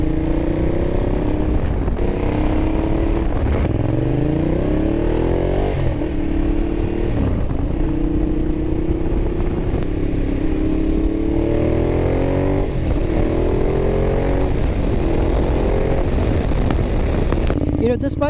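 A 2012 Ducati Diavel motorcycle engine revs while riding in urban mode, its pitch repeatedly climbing and dropping through gear changes in a loud, throaty, continuous roar close by.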